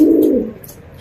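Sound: pair of nun pigeons cooing

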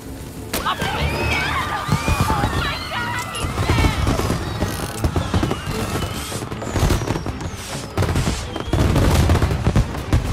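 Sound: fireworks in a video game

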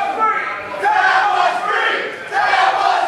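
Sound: wrestling crowd booing the count

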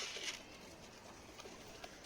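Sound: pigeon moving about

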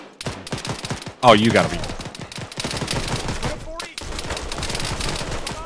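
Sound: gunfire during a military field training exercise

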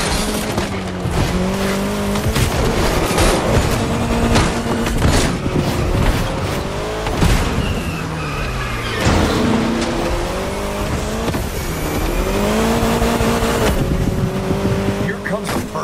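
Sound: Austin Mini Cooper S car driving in video game The Crew Motorfest

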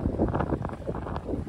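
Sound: strong wind while sailing a boat

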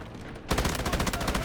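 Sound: gunfire in Delta Force video game

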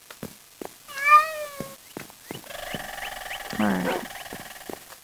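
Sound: cat meowing in Minecraft video game

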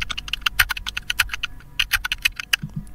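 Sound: AI-generated keyboard typing sound effect

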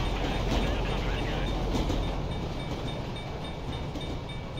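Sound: train passing in video game GTA 5

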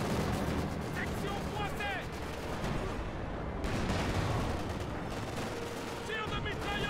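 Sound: machine gun and artillery fire in a war strategy video game

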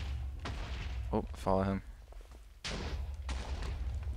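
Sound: explosions in the video game BATS

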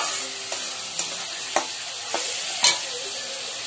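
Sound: frying spice paste in a pan

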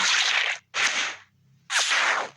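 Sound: gunshot headshot in a video game

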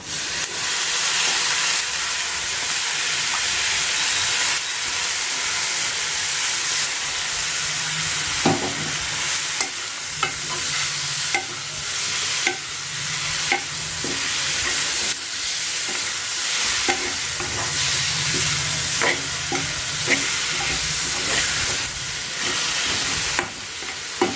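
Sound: cabbage frying in oil

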